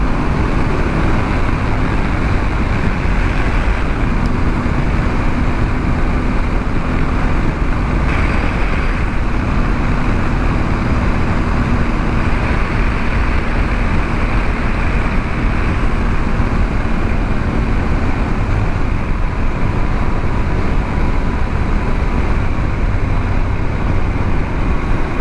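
A car cruising in fifth gear along rural back roads gives a steady, continuous rumble of engine and road noise, constant in loudness throughout with no talking.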